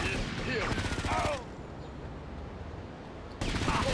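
Bursts of AK assault rifle fire in Grand Theft Auto: Liberty City Stories, a rapid string of close, loud shots at the start and another burst at the end, with a quieter stretch between and someone talking throughout.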